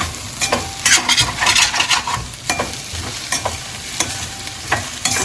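Carrot and egg fry crackles in a pan as it is stirred, with loud scraping spatula strokes repeating at irregular intervals over a steady sizzle, close and without talk.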